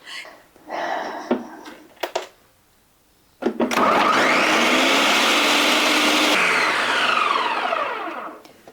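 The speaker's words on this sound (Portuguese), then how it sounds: "vamos levá-la já para o liquidificador" A kitchen blender whirs loudly through peeled, diced mango, starting with brief bursts and then running steadily for several seconds before winding down. Short pulses and clatter come before the long run.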